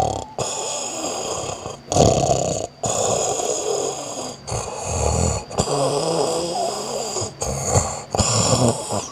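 A man asleep snores loudly and heavily, with rough, rattling breaths that repeat in a steady rhythm and are broken by short silent gaps, close by with no talk.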